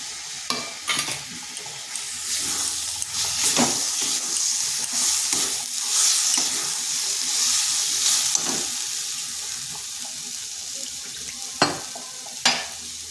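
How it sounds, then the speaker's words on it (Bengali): Cauliflower fries in a pan for a vegetarian winter dish as ground spice paste goes in, a steady close sizzle running throughout with several sharp stirring scrapes and knocks, and no talking. "কপিটা ভাজা ভাজা হয়ে গেছে এরপর দিয়ে দিচ্ছি যে মশলাটা পেস্ট করলাম"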